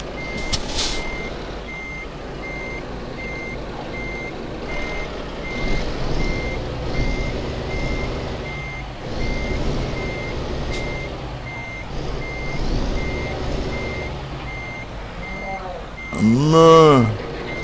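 A truck reverses in Euro Truck Simulator 2, its steady beeping repeating evenly under someone talking and engine hum, with an air brake hiss near the end.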